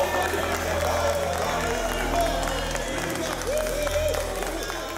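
A crowd cheers and applauds in a steady wash of noise, with music or voices faintly mixed underneath throughout.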